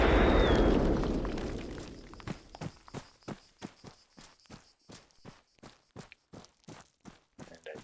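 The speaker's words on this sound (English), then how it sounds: "And I see it detonated that mine." A landmine detonates in an explosive ordnance disposal training exercise: one loud, broad blast at the start rolls off into a fading rumble over about two seconds, then a steady run of close footsteps crunches along alone.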